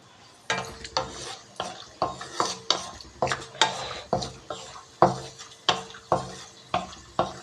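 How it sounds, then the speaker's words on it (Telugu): Cashews frying in hot oil for murmura chivda, stirred with a utensil against the pan: a regular series of sharp scraping clinks about twice a second over a soft sizzle, close and clear, no talking. "ఫస్ట్ కొంచెం లైట్గా గోల్డెన్ బ్రౌన్ కలర్ వచ్చే వరకు ఫ్రై చేసుకుంటే సరిపోతుంది"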